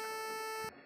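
A steady electronic beep tone with several stacked harmonics holds for most of a second, then cuts off abruptly, leaving quiet background.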